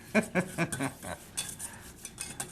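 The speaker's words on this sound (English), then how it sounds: "This is my favorite part, whisking." Flour being whisked into a mixture in a bowl, a rapid run of metallic clinks and scrapes in quick rhythm that thins out into lighter, scattered taps.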